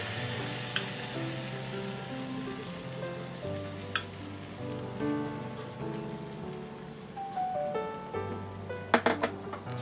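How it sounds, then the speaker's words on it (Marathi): Sorghum flour ghavan batter sizzles and crackles steadily on a hot pan, a soft continuous frying hiss with a few brief clinks, and no one speaks. "तर आपण हे घावण घातलं आहे"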